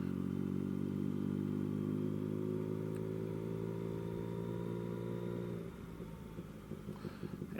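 A 2020 Yamaha Tracer 900 engine while riding in third gear below 2,000 RPM, a steady low droning hum that eases off and turns rougher and lumpier near the end, with road and wind noise underneath.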